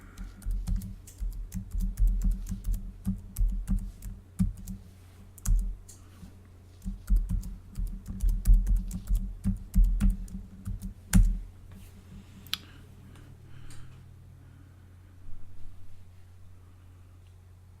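Rapid keystrokes tap on a computer keyboard, entering a root password during an operating system installation on a home server, in a steady close clatter of uneven bursts that slows and thins out into a few last isolated presses.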